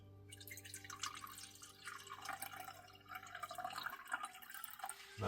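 Water is poured into a cup in an RV kitchen on a winter morning. A steady trickling fill runs close and quiet for a few seconds before it tapers off.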